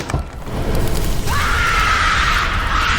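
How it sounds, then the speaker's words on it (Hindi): A woman's scream bursts out in a horror scene as sunlight burns her skin, a shrill sustained wail rising sharply over a low rumbling background and carrying loud to the end. "जब सूरज की किरणें जेनी के शरीर पर पड़ने लगी तो उसकी चीखें पूरे घर में गूंजने लगी"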